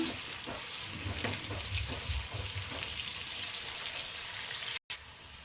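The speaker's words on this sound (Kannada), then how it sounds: "ಈಗ ಚೆನ್ನಾಗಿ ಫ್ರೈ ಮಾಡ್ಕೊಳ್ಳೋಣ" Onions frying in a pan with salt added, cooking toward golden brown for an Andhra-style chicken chutney powder; a steady broadband sizzle runs throughout with faint stirring scrapes, broken by one brief dropout near the end.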